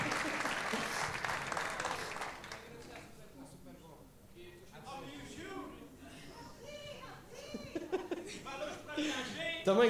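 Audience applause at a university tuna music festival, loud clapping at first that thins out into scattered claps with some laughter and chatter.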